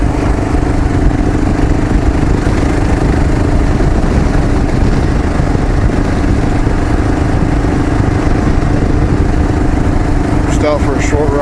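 A KLR 650 motorcycle engine running steadily while riding on a short trip to the store, a constant loud hum with wind rush throughout.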